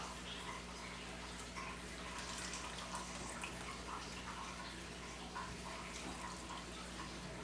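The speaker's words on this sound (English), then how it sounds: "Now let's wring the socks out and see how much water we get." Water runs and drips steadily from a wet compression sock being wrung out by hand, a faint continuous trickle and splatter heard at low level against a steady background hum.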